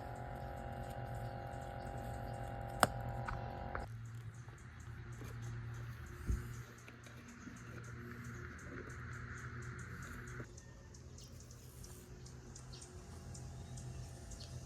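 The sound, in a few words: pond waterfall running from pump filtration system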